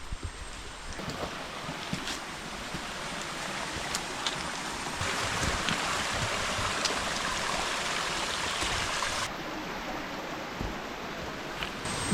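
Forest stream rushing steadily on a mountain hike in Malaysia, a continuous broad hiss of flowing water with small shifts in loudness and no talking.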